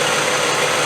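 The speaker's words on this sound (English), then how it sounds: "Right, so I've got the engine started." The 3.5 V8 engine of a NATO Land Rover 110 with a cooling problem idles steadily, a loud, close, even rumble with a dense broadband roar and no speech.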